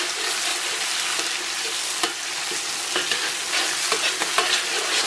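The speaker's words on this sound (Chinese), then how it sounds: "简单给它煸炒一下" Pixian doubanjiang and chili sauce stir-fried in a wok, a steady broadband sizzle with scattered scraping clicks of the spatula across the metal, close and continuous, no voices.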